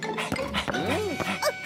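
A cartoon dog in a Garfield episode gives short yips and whimpering barks, close and clear, mixed with animated voices and music.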